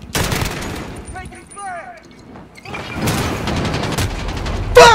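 Gunfire in Call of Duty: Modern Warfare: loud, close rapid bursts of automatic shots come in clusters, with a quieter gap in the middle and brief muffled talk underneath.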